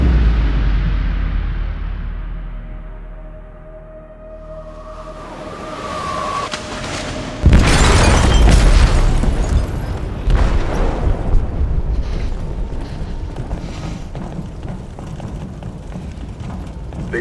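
An explosive detonates in a ship's hold in Detroit: Become Human: a quiet rumbling buildup, then a sudden loud boom partway through followed by a long roaring, crackling aftermath that slowly fades.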